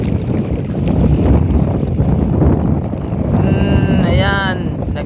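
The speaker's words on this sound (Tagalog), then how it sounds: "palakas na ng palakas yung hangin" Strong wind at sea buffets a microphone aboard a small fishing boat, a loud continuous roar with water wash beneath, while a voice talks briefly near the end.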